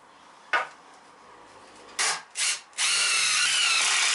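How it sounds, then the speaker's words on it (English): A power drill drives screws through a wooden support into a post, with two short whirring bursts followed by a longer sustained run, close and loud in a garage. "I'm driving the screws in through the support into the post"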